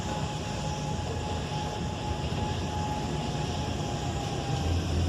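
The Bronx Zoo monorail runs along its tour route, giving a steady, continuous rolling rumble with a faint electric whine, even and unbroken throughout at moderate distance, no voices.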